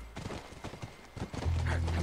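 Horse hooves clip-clopping in The Last Of Us, a steady run of close hoofbeats over a low game ambience, ending with a sustained drone.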